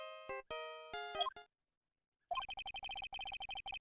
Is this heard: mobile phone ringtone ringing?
yes